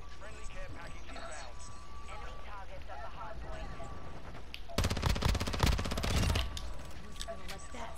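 Burst of rapid automatic gunfire with flaming bullets in Call of Duty: Modern Warfare II, a dense two-second volley loud in the middle of the clip, with game ambience and quieter shots around it.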